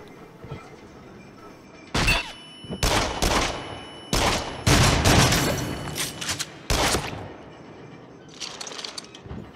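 Loud bursts of gunfire from the Rush of Blood VR game on PS5, coming in several clustered volleys separated by short gaps, with a fainter rattle near the end.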